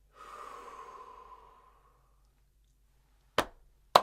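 One long, slow breath out, soft and airy, fading over about two seconds, followed by silence and then two sharp knocking thuds close by.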